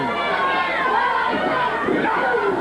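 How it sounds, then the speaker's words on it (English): A 1970s California wrestling crowd screams and shouts at Playboy Buddy Rose in an arena, a dense, loud wall of voices that holds steady throughout. "The crowd screaming at the Playboy."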